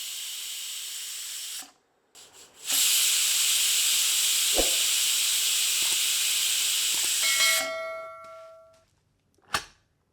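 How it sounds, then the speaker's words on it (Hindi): A pressure cooker cooking mutton on low heat releases loud, steady hissing steam in long bursts, with a brief pause, a faint metallic clink, and tonal whistling as the hiss fades, ending with a sharp clang. "प्रेशर कुकर का ढक्कन बंद करके धीमी आंच पर 4 से 5 सीटियां देकर इसे पकाकर नरम कर लेते हैं"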